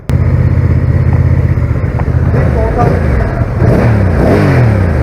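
A heavy Honda NT1100 motorcycle engine rumbles loudly and steadily, with the pitch rising and falling through throttle blips toward the end. Close and continuous.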